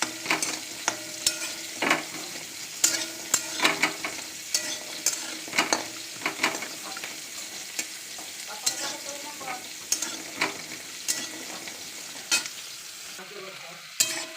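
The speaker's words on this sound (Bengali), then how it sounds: "বড়িটা ভেজে নিই।" Lentil dumplings (bori) fry in oil in a wok, a soft sizzle beneath repeated sharp scrapes and clacks of stirring at an uneven rhythm, close by with no talk.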